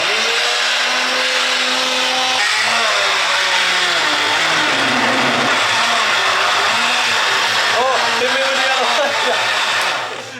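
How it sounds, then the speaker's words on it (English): A blender blending mango whirs loudly and steadily, its motor pitch shifting and wavering as it runs, then cutting off at the end. "Okay, entering the blending zone."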